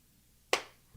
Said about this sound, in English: that was a clap sync